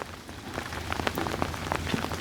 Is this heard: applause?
no